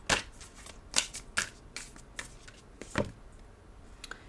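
Into the Lonely Woods oracle cards being shuffled by hand, crisp riffling bursts and flicks at an uneven rhythm, close and moderately loud, with no talk.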